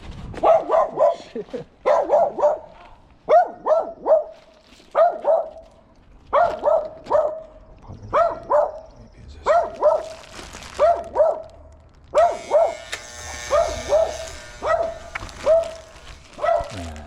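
A dog barks repeatedly from nearby in steady pairs and short bursts for about seventeen seconds, loud against a quiet background with a faint low hum.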